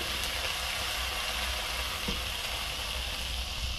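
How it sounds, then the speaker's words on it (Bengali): Potatoes frying in hot oil left over from frying lentil dumplings, a steady dense sizzle and crackle that runs unbroken, loud and close, with no voices. "ওই তেলেতেই এবার আমি আলুটা তুলে দেবো। আলুটা ভাজবো"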